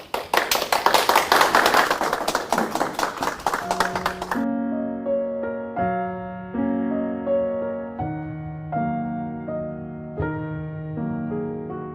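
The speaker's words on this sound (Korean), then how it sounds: "한성열 교수님 나오실 때 큰 박수 부탁드립니다." An audience at a middle-aged psychology lecture claps loudly for about four seconds as the lecturer comes on stage, then gentle piano music continues alone.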